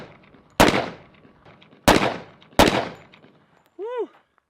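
Three sharp pistol shots from a double-barrel pistol crack out close and loud at uneven intervals, each with a short decaying tail, followed by a brief whistling warble.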